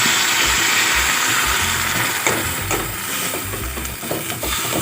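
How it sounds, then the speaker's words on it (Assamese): Water poured into a hot pan of frying pota greens seasoned with khar, giving a steady, loud hiss and sizzle that continues throughout, with occasional clinks of stirring. "তাৰপিছত পানী দিলোঁ।"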